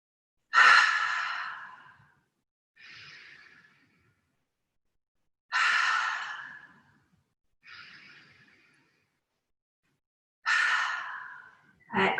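Three slow, deep breath cycles, each a loud inhale through the nose followed by a softer exhale through the mouth, heard alone in a quiet room during a yoga session.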